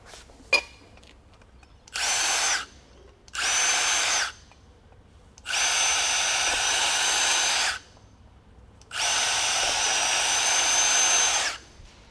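Power drill boring extra holes in a quad gutter's external clip for rivets, four loud bursts of whine of about one to two seconds each, with quiet gaps and a click between them.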